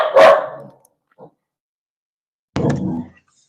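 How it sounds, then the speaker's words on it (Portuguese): A pet dog barks loudly indoors, one sharp bark, a brief faint sound, then another burst of barking after a pause, close to the microphone. "Desculpa, minha cachorra."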